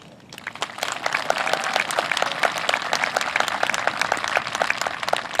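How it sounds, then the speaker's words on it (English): A school ceremony audience applauds students at an 8th grade promotion, a sustained round of many hands clapping that swells quickly and holds steady at moderate volume. "Please join me as we honor these students with a round of applause."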